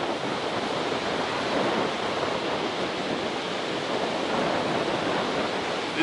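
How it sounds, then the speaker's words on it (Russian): Rough sea surf on the Curonian Spit, driven by a strong wind: a continuous, loud roar of breaking waves and gusting air filling the whole stretch without pause. "И крайне пугающие волны."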